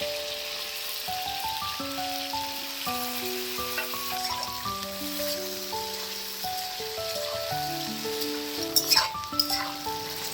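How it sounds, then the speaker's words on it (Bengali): Okra fries in hot mustard oil in a kadai, a steady soft sizzle and crackle that runs beneath melodic background music. "সর্ষের তেলটা ভালো করে গরম হলে তার মধ্যে ছেড়ে দেব ভেন্ডিগুলো।"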